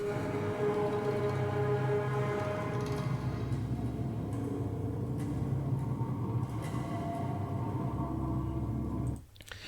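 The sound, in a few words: horror music cue with atmospheres and drones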